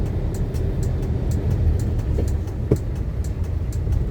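A modified car engine idling loud and close with a steady, heavy low rumble and a brief blip near the middle rather than a full rev.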